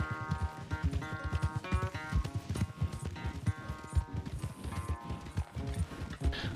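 Horse hooves gallop in Red Dead Redemption 2 during a race, a steady, fast clip-clop rhythm running throughout over background game music.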